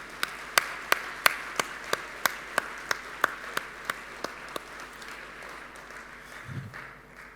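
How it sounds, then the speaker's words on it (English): Audience applause at the LIBF GCC Calling 2025 welcome address: a run of sharp, evenly spaced claps with a steady beat, fading out after about five seconds into a quiet room hum. "let us have a big round of applause,"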